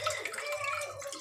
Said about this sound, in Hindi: ये देखो गाइस आज ना थोड़ा थोड़ा पानी आ रहा है